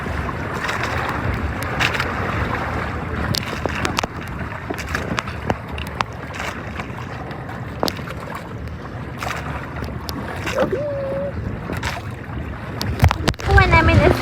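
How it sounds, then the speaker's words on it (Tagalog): Open-water wind and lapping waves sound around a paraw outrigger sailboat off Boracay, a constant rushing hiss with occasional thumps and splashes, and voices briefly call out near the end. "yung maririnig mo lang talaga yung waves, air,"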